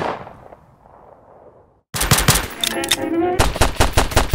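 Rapid, loud bursts of gunfire from two guns in the Roblox video game erupt abruptly after a short quiet stretch, with dense repeated shots continuing to the end.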